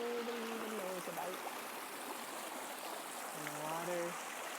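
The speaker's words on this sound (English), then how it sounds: "the water is chugging along, doing its thing to keep the planet in balance" A creek runs steadily in a quiet, remote spot, giving a continuous broadband wash of flowing water throughout. A voice talks intermittently over it.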